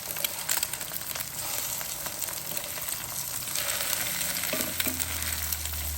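Tuyo eggs fry with a bright, continuous sizzle in a pan, close and steady, with brief utensil scrapes as they are flipped near the end.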